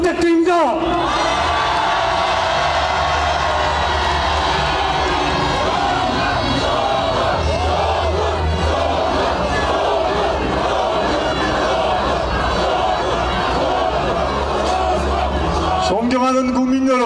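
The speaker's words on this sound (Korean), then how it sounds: "조국 대표께 큰 박수 한 성 부탁드립니다." A large crowd at a Rebuilding Korea Party political rally roars and cheers for Cho Kuk, with loud, dense shouting and whooping that holds steady throughout before easing off at the very end.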